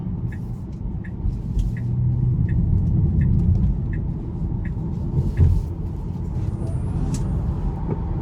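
A 2021 Tesla Model 3 Performance heard from inside the cabin while pulling out of a corner: a steady, dense low rumble of road and drivetrain that swells slightly midway, with faint ticking and no talking.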